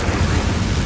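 Incendio fire spell in Hogwarts Legacy bursting as a brief, loud, rushing roar of flame, thick and rumbling with no pause throughout.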